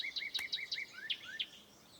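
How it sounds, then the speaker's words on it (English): A cardinal gives a run of clear, repeated chirping whistles, about eight notes in quick succession that fade toward the end, heard alone outdoors along a trail. "A cardinal. Do you see it anywhere? He's a bright red bird."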